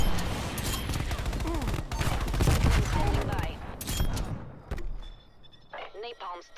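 Black Ops Cold War gunfire, a dense near burst of rapid automatic shots that fills most of the stretch, then thins into a few softer thumps with a voice coming in near the end.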